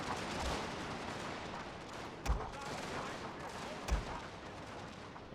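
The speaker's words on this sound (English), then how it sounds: "These units are a little bit exposed to enemy cannon fire." Cannon fire in a video game battle with Prussian forces rumbles steadily in the background, with two sharper booms standing out; a voice talks over the battle noise.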